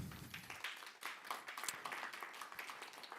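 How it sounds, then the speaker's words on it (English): Audience applause at a road safety capital markets day conference, a steady dense wash of many hands clapping at moderate distance, continuous throughout without talk. "a great applause"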